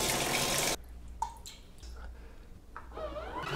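A small 6.5 liter portable washing machine washes clothes in water, a loud churning splash that stops abruptly, followed by quieter sloshing, dripping and squishing, close up, with no talking.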